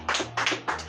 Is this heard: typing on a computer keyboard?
no